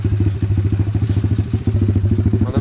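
A quad bike's engine idles through a small aftermarket exhaust pot, putting out a steady, rapid low putter with a slight clatter, close and loud with no talking.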